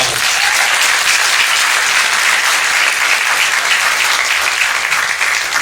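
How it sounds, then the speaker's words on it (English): Sustained applause from an audience at a high school CIF Division 1 sports awards ceremony, dense steady clapping filling the room for several seconds without a break. "So let's please give him a round of applause"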